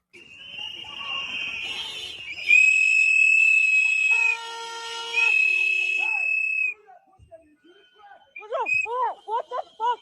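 Shrill whistles blown at a street protest, long sustained blasts overlapping loudly, then a pause followed by a string of short, sharp toots; crowd voices and shouting mixed in.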